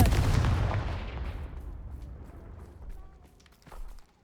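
A Confringo fire spell cast in Hogwarts Legacy, a loud blasting burst that fades away over a few seconds, followed by faint smaller thuds and footsteps.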